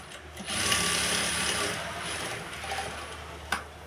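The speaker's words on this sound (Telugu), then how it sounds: "సో ఇలా వేసిన తర్వాత ఇలా డబల్ స్టిచ్ చేసేయండి." A sewing machine runs steadily for about three seconds while double stitching a blouse, a close, continuous mechanical whir with a small click near the end.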